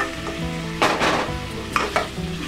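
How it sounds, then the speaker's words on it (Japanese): Chicken hits a hot pot of fried garlic, onion and ginger for a Sri Lankan chicken curry. A loud, continuous sizzle runs under a few clanks and scrapes of stirring, with no talking. "次に肉をその鍋に入れます。"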